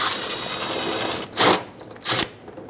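A power driver backs out a 7mm headed screw holding the bumper cover to the fender on a 2010-2017 Chevrolet Equinox: a steady whirring run of about a second, then two short separate bursts, close and fairly loud.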